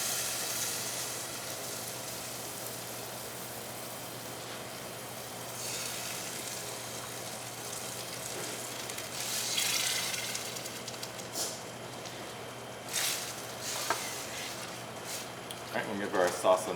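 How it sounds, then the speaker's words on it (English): Tomato products added to sautéed onions and garlic in a pan for a classic tomato sauce, giving a soft, steady sizzle under quiet talk, with a few louder hissing bursts near the end. "go ahead and add in both of our tomato products"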